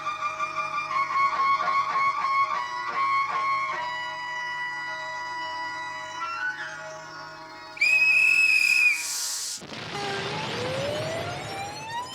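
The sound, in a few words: whistle blown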